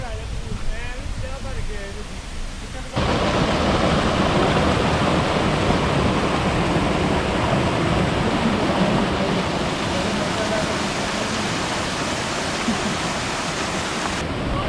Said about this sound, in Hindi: हम ये वाटरफॉल देखने आए थे